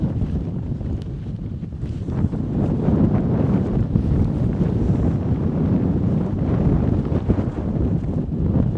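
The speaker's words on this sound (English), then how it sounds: "the wind was gusting at 35 miles per hour" Strong wind gusts at about 35 miles per hour across a hilltop, a constant low roaring rumble buffeting the microphone with uneven surges and no voices.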